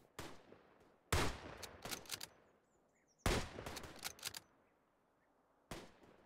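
Incoming gunfire striking the player in the World War I shooter Tannenberg: sharp, loud cracks in clustered bursts, a few rapid volleys separated by quieter gaps with a distant rumbling background.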